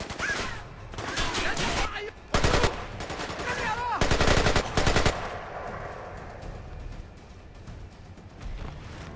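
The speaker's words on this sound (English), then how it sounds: "Shooting." Gunfire in Splinter Cell: Conviction comes as loud bursts of rapid automatic shots in separate volleys, then tails off into quieter background noise with a voice talking over it.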